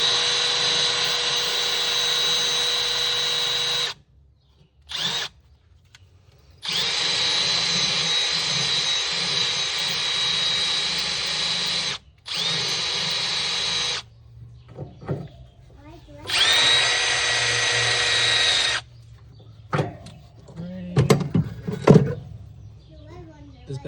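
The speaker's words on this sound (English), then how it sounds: "clean the bolt up on the bench grinder, make it a little bit easier" A bench grinder cleans up a bolt in a workshop, its loud high whine running in long steady bursts that stop and restart several times, with brief gaps of quiet and talk near the end.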